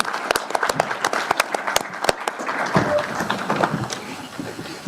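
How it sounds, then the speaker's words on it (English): Audience applause for candidates at a League of Women Voters forum, a burst of crowd clapping with sharp individual claps standing out, steady and fairly close, with a little murmur underneath. "let's give these candidates a round of applause."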